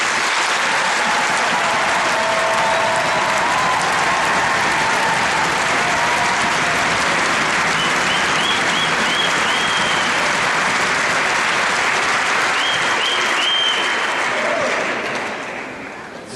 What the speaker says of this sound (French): Vous devriez les applaudir maintenant.